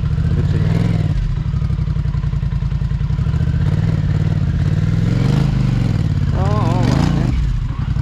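A Polaris Sportsman 1000 ATV, stuck, churns and revs continuously nearby with clattering surges, while someone talks over the engine throughout.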